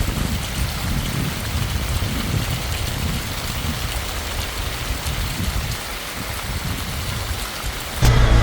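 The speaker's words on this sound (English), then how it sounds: "we just got a pop-up downpour coming down pretty good" A sudden heavy summer downpour drums steadily and loudly on the ground and water beside a half-acre pond under construction, a dense continuous hiss of rain with a brief louder knock at the very end.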